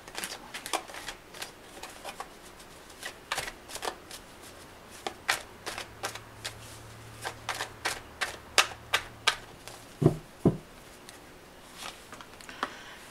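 Tarot cards being shuffled by hand for a reading, a long run of crisp riffling snaps and taps at an irregular pace, close and distinct with no one speaking.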